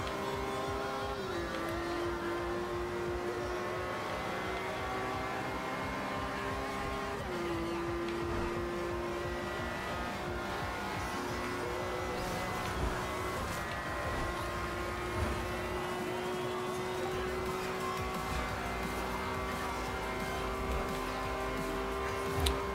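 Race cars in Forza Horizon 2 drive in a steady, continuous engine drone with shifting pitch, occasional gear changes and faint tire noise, playing throughout without talk.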